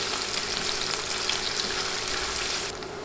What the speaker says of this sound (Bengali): নেড়ে নেড়ে পেঁয়াজ নরম হয়ে আসা পর্যন্ত ভাজব